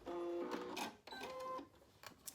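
A sewing machine back stitches across a youth gaiter, two short bursts of fast mechanical stitching with a brief pause between them, close and fairly quiet, followed by a few small clicks.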